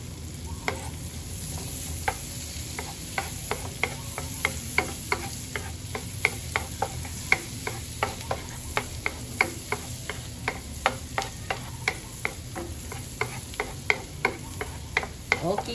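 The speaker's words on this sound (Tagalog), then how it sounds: "Sunod, gisahon na pod ang bombay." Garlic and onion sautéing in butter for a cream corn dish: a constant sizzle under regular, sharp ticking taps of a utensil stirring against the pan, close and steady.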